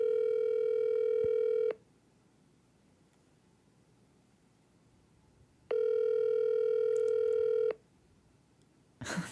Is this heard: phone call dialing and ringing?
yes